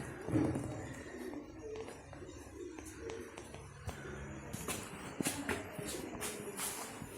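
Pigeons cooing softly at close range, with wing flutters and shuffling, plus some sharp clicks and rustles toward the end.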